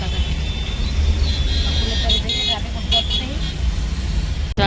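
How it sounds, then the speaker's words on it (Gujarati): Heavy, congested road traffic in Vejalpur during Navratri, with a steady close rumble of engines and brief horn toots, while people talk over it. "ટ્રાફિક તો જો આમ જો જબ્બર આમ જો"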